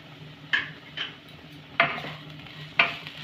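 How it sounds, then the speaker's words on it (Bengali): Spatula scrapes stirring bitter gourd with salt, turmeric, chilli powder and cumin powder in a pan, four sharp strokes spaced about a second apart over a low steady fry, close and moderately loud. "এবার আমি করলার সাথে মশলাটাকে ভালো করে মিশিয়ে নেব এবং কয়েক সেকেন্ড নাড়াচাড়া করে মশলাটাকে ভেজে নেব।"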